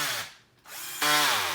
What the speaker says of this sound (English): you're drilling in screws